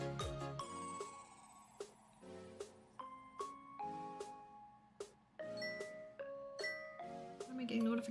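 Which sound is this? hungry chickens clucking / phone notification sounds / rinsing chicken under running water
phone notification sounds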